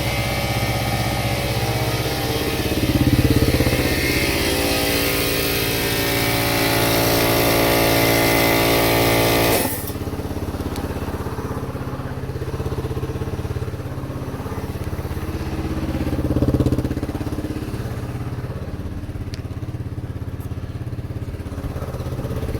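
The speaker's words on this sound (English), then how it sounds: "It fired up pretty good. It's idling like a dream." A Yamaha XT225 motorcycle that had sat for ten months idles steadily after starting, a continuous close engine drone with a brief rev swell and a sudden change in tone partway through, no talk.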